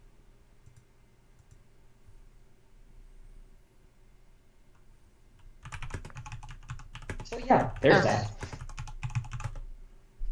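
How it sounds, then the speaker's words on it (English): Computer keyboard typing on a voice call, a rapid run of clicking keystrokes close to the mic that rises and grows loud midway, with brief speech alongside. "if you're typing, mute yourself"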